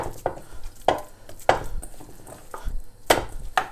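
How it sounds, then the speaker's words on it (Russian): Hands pound a burger patty flat, several sharp slapping hits at uneven intervals with quieter handling noises between them, close by and without speech. "Отбиваем нашу котлету."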